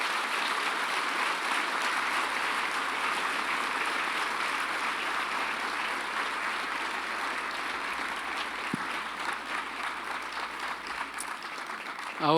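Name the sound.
audience applause in church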